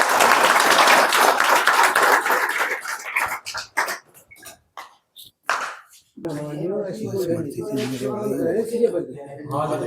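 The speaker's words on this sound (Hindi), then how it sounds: "भाई जोरदार ताली हो जाएगी बड़ो" A burst of loud, dense clapping from a crowd lasts a few seconds and fades into scattered claps, then people begin talking.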